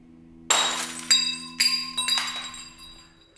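Wine glasses perched on posts along a dim obstacle course shatter and clink in several sharp crashes, each followed by ringing glassy tinkles and debris settling, close and loud with no talking.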